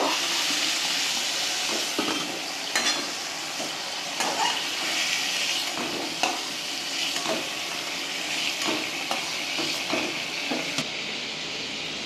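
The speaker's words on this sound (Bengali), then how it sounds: "দেখুন আমি চিংড়ি মাছগুলো উল্টে পাল্টে ভালো করে ভেজে নিচ্ছি" Loud, close frying of prawns: oil hisses and spatters continuously while a utensil scrapes and turns them in quick, irregular strokes.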